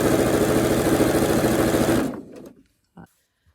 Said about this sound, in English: Just sew straight seam down through here.